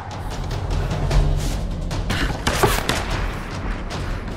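Rapid gunfire from the Tomb Raider video game during a Shantytown firefight, a sustained burst of sharp cracks and booms over a dense, noisy battle backdrop with no clear talk.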